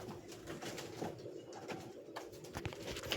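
Pigeons in their loft cooing, repeated low rolling coos from several birds at close range, with faint rustling and scattered background noise.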